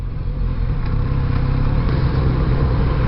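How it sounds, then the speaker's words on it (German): Steady, close drone of a Kawasaki Z900RS engine cruising in sixth gear through a slow zone, an even low hum that holds without a break. "Läuft echt geschmeidig der Motor."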